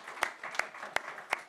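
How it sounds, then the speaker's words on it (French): Audience at a regional Fête Nationale celebration clapping, a few distinct sharp claps spaced evenly over a soft background of scattered applause, fairly faint and brief. "Là, vous êtes supposé applaudir."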